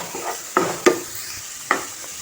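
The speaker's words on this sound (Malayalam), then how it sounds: "നമുക്ക് ഉള്ളി ഇട്ട് കൊടുക്കാം. പച്ചമുളകും കൂടി ഇട്ട് കൊടുത്തിട്ടുണ്ട്. നല്ലോണം ഇളക്കി കൊടുക്കാം." Onions and green chillies hit a hot pan for a Kerala anchovy dish, with a soft background sizzle broken by three distinct spatula scrapes and clacks as they are stirred.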